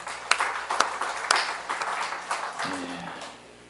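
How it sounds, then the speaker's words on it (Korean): A Korean Sunday church congregation offers applause of glory, scattered claps rising into a moderate ripple that thins out, with a low tone entering near the end as it fades. "영광의 박수를 드립니다"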